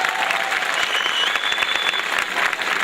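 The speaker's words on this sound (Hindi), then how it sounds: "तो तालियां बजाएं एक बार जोर से" Loud audience applause at a comedy show at IIT Roorkee, a thick continuous roar of many hands clapping throughout, with a faint whistle-like tone riding on top.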